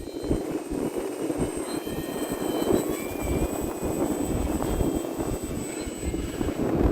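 An Arrows Husky Ultimate RC airplane flies outdoors on a windy day. Its engine whines steadily at a distance under heavy rumbling wind buffeting, and its pitch shifts a little as it passes.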